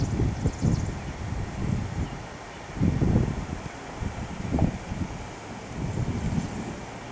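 Gusty wind ahead of an approaching thunderstorm buffets the microphone, with rumbling low bursts swelling and fading in uneven waves, loud and close, no voices.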